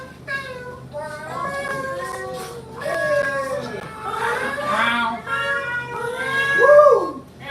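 A person imitates a cat at an open mic, voicing a string of drawn-out, wavering meows that grow louder toward the end, close and clear over a faint room hum.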